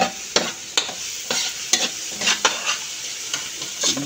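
Garlic and onion sauté in hot oil for lugaw rice porridge, sizzling steadily while a spoon scrapes the pan in quick, regular strokes.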